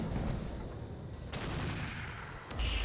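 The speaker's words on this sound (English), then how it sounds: "Banshee firing on the Salamander" Mech weapons firing in the RogueTech BattleTech video game as a Banshee shoots at a Salamander, a dense, loud barrage of booming shots and rattling bursts that never lets up.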